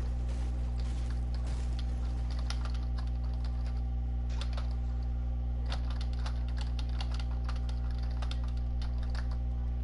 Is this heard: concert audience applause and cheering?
no